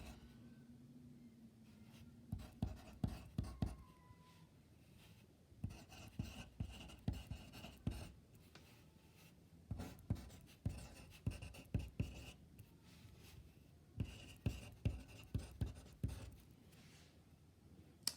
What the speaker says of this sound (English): I'm going to write down the formula so you can see it.